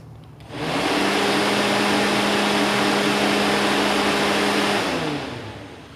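An electric radiator cooling fan for a 1960 Chevy Biscayne with an LS swap and aluminum radiator whirs up abruptly and runs as a loud, steady roar with a faint hum, then spins down at the end.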